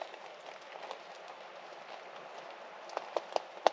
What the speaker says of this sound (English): but the rain's kicking in